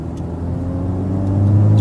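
Turbocharged Honda Civic Type R engine drawing air through its intake, a steady low rumble that swells louder as revs climb, close and alone with no talk.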